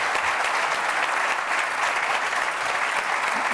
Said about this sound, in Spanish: Yo creo que se han ganado un aplauso por compartir su experiencia.